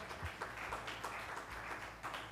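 Audience at the e4m NewsNext 2025 journalism event applauding the Exchange for Media team, a faint, continuous patter of clapping from a crowd, even and distant-sounding with no voices over it.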